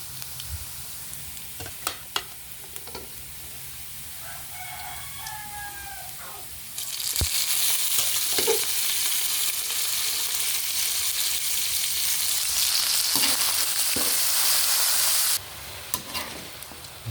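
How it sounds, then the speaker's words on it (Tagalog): Duck meat hits a pan of golden-browned sautéed aromatics, a loud broad sizzle that swells after a few quiet seconds with scattered stirring clinks, then cuts off near the end. "Ilagay na po natin ng konti-konti yung ating pong karne ng bibi."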